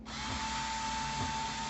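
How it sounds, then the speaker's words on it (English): A power drill set to reverse backs screws out of a mirror frame, a steady high motor whir with a faint grinding wobble, close and continuous for under two seconds. "So I'm just going to begin taking out all of the screws and going around the whole thing."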